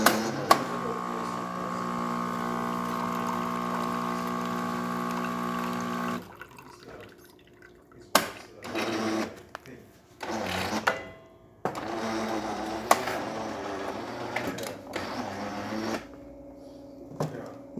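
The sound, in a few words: Kanen espresso machine running a rinse cycle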